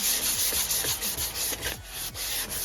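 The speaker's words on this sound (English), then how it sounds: "We're going to be doing some wet sanding of this panel" Wet sanding of a motorcycle panel on a barn-find Yamaha YTM200ER using 180 grit sandpaper: close, continuous rhythmic rubbing strokes, about two per second, with no voices.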